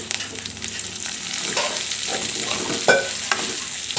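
Curry leaves, garlic and onions fry in hot oil in a pan, a constant near sizzle broken by a few sharp crackles and stirring scrapes as ingredients go in, no talking.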